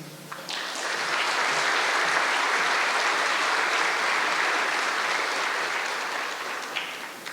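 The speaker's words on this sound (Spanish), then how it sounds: "También les pido un aplauso para el doctor Kai Sonder" A conference audience bursts into sustained applause, many hands clapping in a dense even wash that swells quickly, holds for several seconds, then tapers off.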